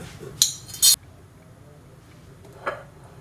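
A spoon knocks and scrapes against a pan while stirring sprouted green gram, giving two bright metallic clinks in quick succession and a softer tap a moment later over quiet background.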